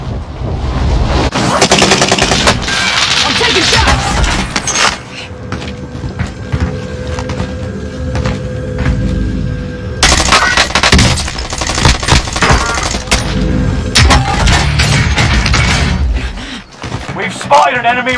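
Rapid video-game gunfire in a live-streamed shooter, dense bursts and shots running almost continuously near and loud, with in-game voices and speech mixed over the firing.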